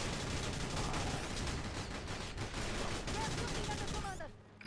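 Dense gunfire from the GameCube game Battalion Wars, a sustained fusillade of overlapping shots and rattling bursts filling the whole stretch, loud and continuous before cutting off abruptly at the end.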